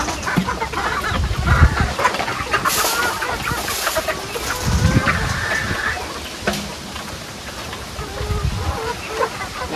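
A flock of native Katambayan chickens pecking at feed, clucking steadily and close by, with overlapping calls throughout and no talking.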